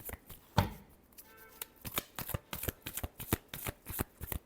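Tarot cards shuffle by hand in a quiet room: a series of crisp, close riffling and snapping bursts in an uneven rhythm, with no voice over them.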